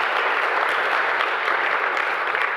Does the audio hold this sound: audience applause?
yes